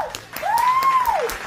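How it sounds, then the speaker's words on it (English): Short burst of applause and clapping from a small group, steady and close, with a voice calling out over it. "Everybody start clapping."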